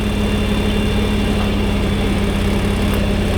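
A 2020 John Deere X739 lawn tractor engine straining to lift the mower deck arms, a loud, steady, close rumbling drone with constant vibration throughout and no talking.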